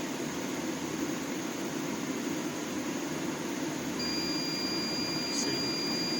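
A portable propane heater's alarm sounds as a thin, steady high beep that starts partway through, heard over a constant broadband hiss of the running heater, fairly quiet and without speech.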